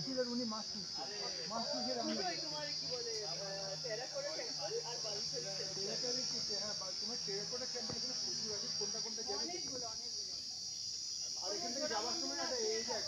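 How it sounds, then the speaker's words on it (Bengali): A steady, high-pitched drone of crickets chirping in Joypur Forest fills the background at an eco resort while people talk over it in a quiet, natural setting. "লাইভ ঝিঝির ডাক।"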